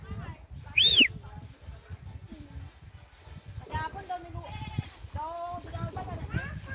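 Goats bleating in an outdoor yard, one sharp high bleat early and a few more cries later, amid people talking and children's voices nearby.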